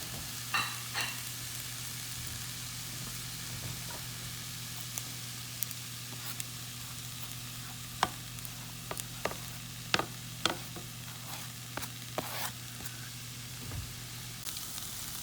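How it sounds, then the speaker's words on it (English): Chopped onions and mixed vegetables for shepherd's pie sizzle softly in a pan, a low steady frying hiss broken by occasional sharp scraping clicks of a spoon stirring, no talking. "We want to keep cooking them until the onions are limp."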